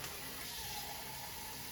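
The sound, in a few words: water being poured into a pot for white pulao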